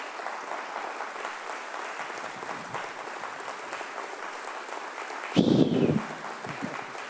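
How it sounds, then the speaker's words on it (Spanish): A church congregation claps in one short, loud burst that ends quickly, following a stretch of quiet room sound. "Dale un fuerte aplauso a Jesucristo."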